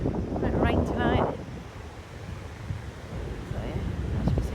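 Strong wind buffets the microphone in a steady roar on a wild Scottish beach, with surf rumbling underneath and a brief voice early on.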